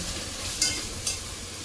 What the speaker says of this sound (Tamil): பேஸ்ட்டு தூளில் போட்டாச்சு. இது வதங்கட்டும்.